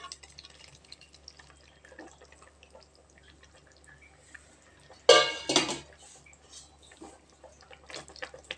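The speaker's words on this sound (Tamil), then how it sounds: "இப்போ நம்ம வதக்கி வச்ச வெண்டைக்காவை இதில் சேர்த்துக்கலாங்க." Fried okra tips into masala simmering in a pan, a sudden loud clatter and splash after quiet kitchen ticks, followed by soft scraping.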